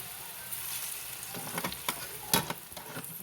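Sliced plantains fry in a pan with a soft, even sizzle, broken by a few brief scrapes and taps of a utensil toward the end.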